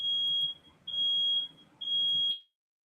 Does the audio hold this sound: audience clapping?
no